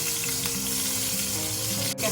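Onions sizzling in a frying pan, a steady close frying hiss with low background hum and faint tonal sounds, uninterrupted until a brief dip near the end.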